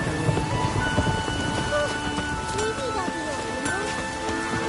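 In the video game The Witcher 3, steady rain hisses throughout while low thunder rumbles underneath, mixed with faint game-like tonal sounds.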